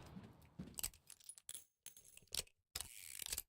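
Delta Force video game gun reload, a revolver-style spin with sharp metallic clicks and jingling rattles in quick bursts separated by brief gaps, close and fairly quiet, no talking.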